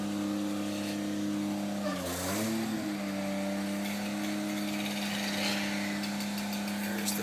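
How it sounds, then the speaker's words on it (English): Wood chipper running steadily outdoors at an oak felling site, a constant droning engine hum with a brief pitch dip near two seconds before settling back to an even, continuous roar. "The wood chipper."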